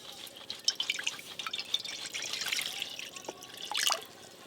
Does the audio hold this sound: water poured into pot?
yes